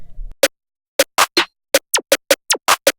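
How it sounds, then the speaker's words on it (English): A Fakemink-style type beat drum pattern plays alone: crisp, punchy claps, snares and percussion hits in a syncopated, bouncy rhythm. Each hit is dry and separated by silence, after a brief low rumble at the start. "Together, the drums sound like this."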